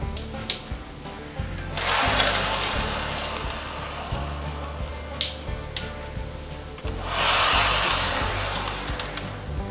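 A grain hopper railcar rolls slowly through a model railway track turnout, giving a steady low rumble with faint clicks, while louder whirring motor bursts swell twice nearby.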